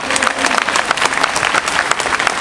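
A crowd at an outdoor political rally claps steadily and loudly, a dense wash of applause continuing throughout with no talk.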